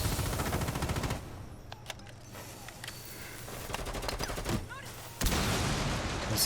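Bursts of automatic gunfire from a Rainbow Six Siege esports match, loud rapid rattling at the start and again near the end with quieter sporadic shots between, under a commentator's voice.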